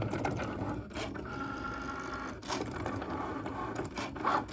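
A Cricut machine cuts vinyl with a steady mechanical whir and faint scraping of the blade carriage, sounding fairly quiet and close, with no one talking.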